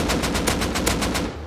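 Rapid gunfire in the survival game Rust, a fast continuous burst of crackling shots that fills the whole moment at steady loudness.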